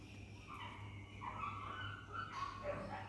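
Dogs bark and yip outdoors at a Thai temple, heard from inside a building with a sandy dirt floor, distant and muffled, a continuous excited chorus over a low hum.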